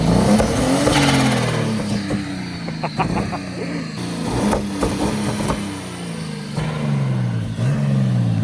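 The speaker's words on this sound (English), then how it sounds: "It's popping because we don't have a blow off on the car right now." A turbocharged BMW E36 drift car with no blow-off valve revs repeatedly, each rise and fall of the engine followed by a burst of popping and fluttering; close and fairly loud.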